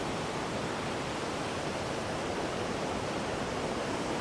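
Water rushes powerfully at Hogenakkal falls in full flow, a dense, continuous roar of broadband noise that stays loud and unbroken throughout, with no voices.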